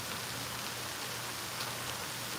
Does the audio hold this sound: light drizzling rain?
yes